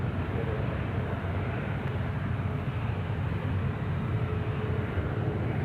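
An Emirates airliner taxis at Sydney Airport, heard as a steady, distant broadband jet-engine rumble and hiss that stays even in level, with no voices.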